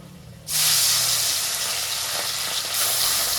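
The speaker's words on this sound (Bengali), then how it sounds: "পুরো কালো জিরার কাঁচা লঙ্কা দিয়ে লবণ হলুদ দিয়ে এরকম করে মুচমুচে মাছ ভাজা" Small fish seasoned with black cumin, green chili, salt and turmeric hit hot oil in a pan with a sudden loud hiss that settles into a steady, close crackling sizzle.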